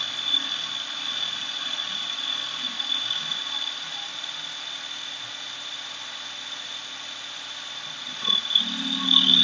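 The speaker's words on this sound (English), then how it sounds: "drill a pilot hole first with a smaller bit" A steady, high-pitched whirring of a power drill boring a pilot hole with a small bit into an empty glass bourbon bottle runs continuously, with a faint change near the end as it finishes.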